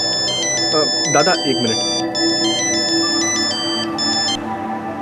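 A mobile phone ringtone plays a repeating electronic melody of bright, stepped tones, steady and loud for about four seconds before cutting off, with a voice speaking briefly over it near the start.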